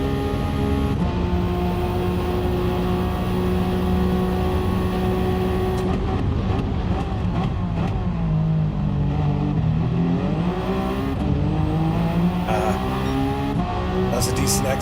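A race car engine in Gran Turismo 7 at Le Mans drones steadily and loudly, its pitch climbing and dipping as the revs change through gear shifts, with faint tire noise and no pause.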